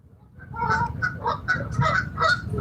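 Several geese honk loudly outdoors beside a freshwater trout-fishing spot, repeated overlapping calls in uneven bursts, close and dominant with no speech.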